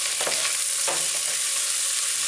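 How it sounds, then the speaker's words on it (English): Sauce and vegetables for chicken lo mein are stirred in a hot frying pan, giving a loud continuous sizzle with a couple of brief scraping strokes near the start, close and without talk. "you just stir in, stir in."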